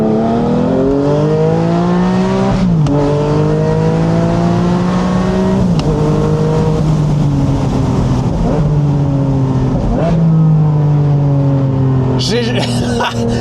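A modified Porsche Boxster 981 hybrid accelerates hard, its engine note rising through several gears with clear shift breaks, loud and close throughout, ending with a brief burst of higher-pitched noise.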